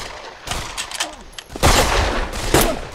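Sniper rifle shots ring out in the VR shooter Pavlov VR: a few sharp, loud cracks spaced about a second apart, with a heavier blast near the end, close and mostly alone.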